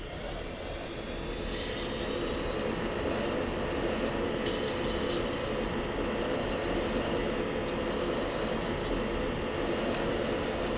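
F-16 jet engine roaring at full power with afterburner during a takeoff roll in a flight simulator, a steady loud broadband rumble and whine that holds constant throughout.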